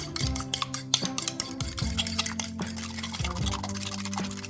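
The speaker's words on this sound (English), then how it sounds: "you're going to want to get these 2 eggs. And you're going to want to whisk them until blended." Two eggs whisked in a bowl: quick, bright clinks of the whisk against the bowl, busiest at the start, then a softer wet stirring, all under background music.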